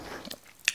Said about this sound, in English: tastes moist, tastes uplifting, tastes crunchy.